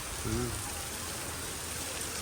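Steady rain hisses across the whole clip, a dense wash of patter; a brief voice is heard near the start.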